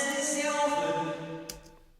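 Reversed vocal phrase with reverb in GarageBand: a swelling, smeared wash of backward voice and reverb tail that builds and then drops away abruptly, lasting about two seconds.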